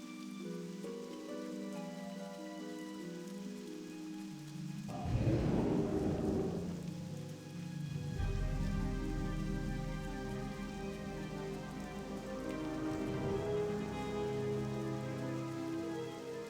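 Rain falling in the video game World of Warcraft Classic, a steady hiss of rain on surfaces with a swelling rumble of thunder partway through, continuous and fairly quiet.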